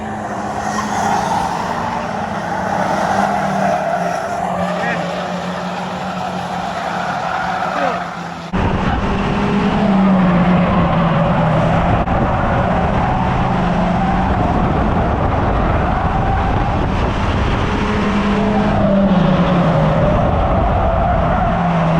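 Race cars roaring around the oval at Cowdenbeath Racewall, loud engines rising and falling as they pass close by, with tyre squeal and skidding and a sudden louder surge partway through.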